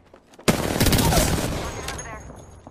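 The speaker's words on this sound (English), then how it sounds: "Taking fire. They spotted me. I'm taking shots." Rapid bursts of gunfire in the battle royale game Apex Legends, a loud, dense volley erupting suddenly and rattling on for about two seconds before tailing off.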